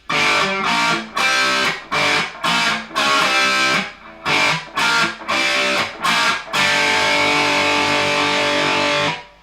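An easy beginner riff rings out on a distorted electric guitar, picked in short separate chords with brief gaps and then held as one long sustained chord to finish, loud and alone.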